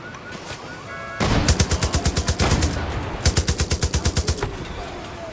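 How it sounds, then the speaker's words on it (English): Rapid automatic gunfire in the video game Far Cry New Dawn, two loud sustained bursts of evenly spaced shots, close and sharp, with a brief pause between them. "is he shooting like gas cans?"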